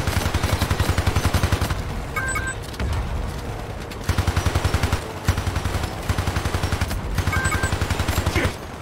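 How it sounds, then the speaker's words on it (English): Enemy automatic gunfire in the toy-soldier shooter Hypercharge: Unboxed rattles in rapid, steady bursts, loud and close, broken by brief pauses and a few sharp single shots between volleys. "Oh, they're shooting back too, dude."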